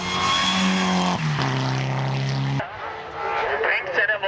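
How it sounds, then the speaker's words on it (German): Race car in Group A over 3000 cc, a Mitsubishi Lancer, at the Rechberg hill climb in 2007: a loud, sustained engine note that steps between steady revs before dropping away, with a commentator talking over it. "Bringt seinen Motor so richtig in Schwung."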